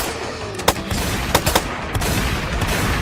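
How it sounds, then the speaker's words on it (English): Gunfire in an action scene aimed at distracting a pursuing creature near a tower, with a few sharp shots standing out over a dense, continuous rumbling din. "Try to distract it with your gunfire."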